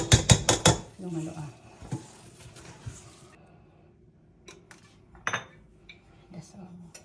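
Carrot cake batter stirred in a bowl, with utensils clinking and scraping against the sides in bursts, loudest at the start, then quieter with pauses while people talk nearby.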